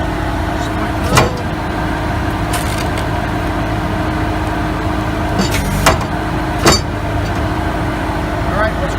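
A Halverson HWP 140B firewood processor idles in a steady, loud engine drone throughout, with a few sharp clanks or knocks standing out over the continuous running noise.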